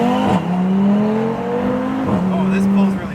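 Audi fitted with an MBRP cat-back exhaust accelerating with the windows down, a loud, steady engine drone heard from inside the cabin that dips briefly at each gear change, with faint talk.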